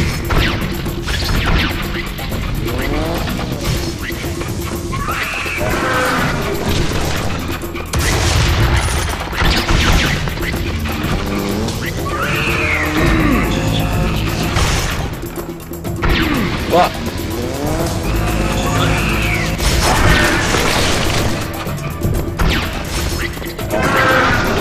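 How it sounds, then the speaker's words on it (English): Heavy crashing and crumbling of stone pillars being broken in the first-person shooter Serious Sam 3: BFE, several loud smashes mixed with gunfire and game effects, with occasional voices over the din. "I figured out you can break pillars with this thing."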